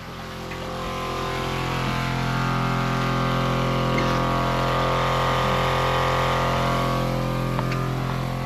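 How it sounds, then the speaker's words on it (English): Water maker pump running aboard a sailboat, a steady droning hum with strong low tonal lines that swells in over the first two seconds and then holds constant, no talk. "Then you'll hear this pump."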